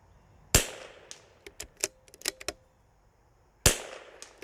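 Two sharp rifle shots ring out outdoors during a scope test, each a loud crack with a decaying tail about three seconds apart, with smaller clicks and knocks between them.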